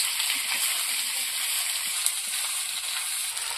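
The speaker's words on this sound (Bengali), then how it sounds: "আদা রসুন বাটা দিয়ে দেবো। এবার একসঙ্গে ভালো করে কষিয়ে নেব।" Ginger garlic paste sautéing for a village-style Katla fish curry with potatoes, giving a steady, close hiss of frying and sizzling with faint stirring scrapes and no talking.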